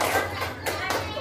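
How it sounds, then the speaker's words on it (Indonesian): Children in a classroom clap their hands in a few sharp, close bursts. Faint children's voices sound around the claps. "Bagaimana tepuk tangan buat teman-teman."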